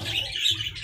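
Budgie parakeets in a breeding setup give a brief burst of bright, high chirping, close and fairly loud.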